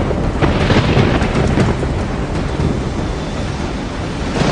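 Huge storm waves crash relentlessly, as if driven by a top-category hurricane, in a loud continuous roar of surf and rushing water with no break or quiet moment.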